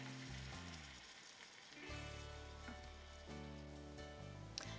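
Shrimp scampi with orzo sizzling in a hot pan, a steady close crackle and hiss that holds evenly throughout, fairly quiet with no talking.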